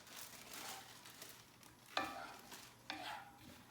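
Onions and celery get stirred in a pan, a soft sizzle under scraping spoon strokes with two sharper knocks against the pan, fairly quiet and close.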